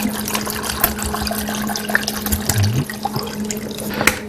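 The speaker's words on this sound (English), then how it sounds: "Now I'm going to pour some apple juice in" Apple juice pours into a pot of apples, a steady liquid splashing and trickling with occasional louder gurgles and drips, close and alone.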